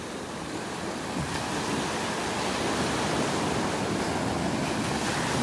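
Steady surf rolls onto a beach in North Naples, Florida, on a rough morning, a continuous broad wash of breaking waves that swells slightly louder toward the end, with no voices.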